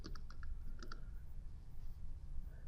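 A computer keyboard is tapped in a few quick, faint clicks during the first second, then goes quiet under a low, steady room hum.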